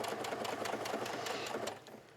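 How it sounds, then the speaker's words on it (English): A sewing machine runs steadily while stitching a cap sleeve onto a dress, a fast, even mechanical whir that holds for about two seconds and then eases off near the end. "I'll backstitch just a little bit and trim my threads"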